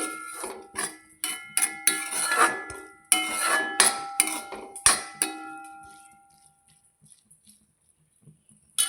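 A metal spoon scrapes and clinks against a pan while mushrooms are stirred for a coconut-based mushroom curry, sharp irregular knocks close by for about five seconds before the sound fades to near quiet, with no voices.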